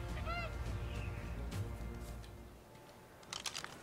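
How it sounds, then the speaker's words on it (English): A dodo bird in ARK: Survival Evolved calls with short, nasal honking squawks, loudest near the start. Scattered rustling and clicks from the game follow, with faint voices low underneath. "Wow, you are a strong dodo bird."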